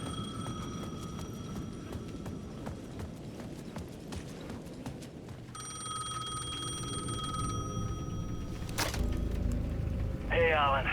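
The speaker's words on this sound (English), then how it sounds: "The payphone at the edge of the plaza was ringing again." A payphone at the edge of a plaza in Alan Wake 2 rings in repeated electronic bursts over a low ambient game soundscape, with the rings cutting in and out and growing more prominent toward the end.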